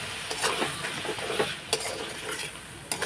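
Ingredients sauté in a pan ahead of chana dal, with a close, busy sizzle and repeated scraping clatter of a spoon stirring against the metal.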